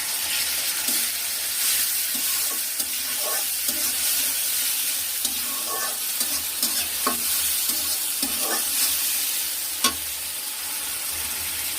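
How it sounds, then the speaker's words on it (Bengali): Garlic fries in a pan for a catla fish and potato pasta dish, a close, steady sizzle with repeated spatula scrapes and stirring knocks throughout, and one sharper clack toward the end. "রসুন এবার একটু মিশিয়ে নিব"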